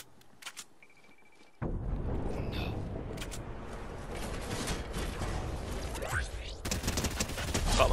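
Rapid SMG fire in a Fortnite Team Rumble match, bursting in abruptly and rattling on as dense, continuous automatic shots with a busy game-effects backdrop, growing louder and sharper near the end.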